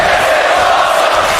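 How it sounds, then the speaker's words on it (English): A dense, loud wrestling arena crowd roars and chants in unison, a sustained wall of voices filling the space without a break. "And the crowd chanting, "This is awesome.""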